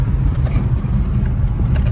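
A truck engine with its fan removed drones continuously through a tunnel, a steady, deep rumble with a boomy, enclosed low-end roar and no talking.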